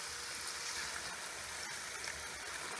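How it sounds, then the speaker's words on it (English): A cup of water is poured into a pressure cooker holding lamb masala, a faint continuous stream with a slight splash partway through. "I'm going to add 1 cup of water."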